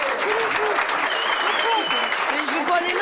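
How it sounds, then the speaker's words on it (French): Audience applause fills a cabaret evening in Condé-sur-l'Escaut, dense steady clapping from a crowd lasting the full three seconds with some voices mixed in. "pouvez encore les applaudir."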